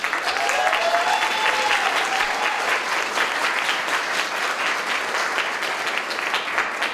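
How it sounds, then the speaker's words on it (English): An audience at a lunchtime panel on transgender visibility gives the panelists a warm round of applause, a continuous full wash of clapping that holds evenly from start to finish with no talking. "Let's welcome our panelists with a warm round of applause."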